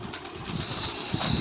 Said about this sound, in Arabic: طير لكم اياهن شوية. هاي اذا طارن